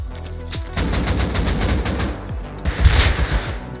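AK assault rifle fire in the console edition of the survival game Rust: loud, rapid bursts of automatic shots in quick succession, with a short pause and then another heavy volley near the end, no talking.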